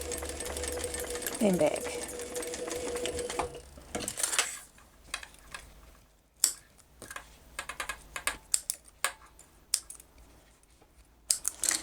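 A sewing machine stitching across a cross-body bag strap runs in a steady close whir for a few seconds, then stops; irregular clicks and handling noises follow, with someone talking over parts of it.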